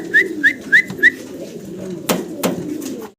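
Green-neck Budapest fancy pigeons cooing close by, four quick rising coos in a row, then a couple of sharp knocks and soft rustling.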